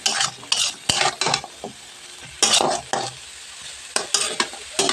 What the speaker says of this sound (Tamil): இப்போ நல்லா வதக்கிக்கலாம்.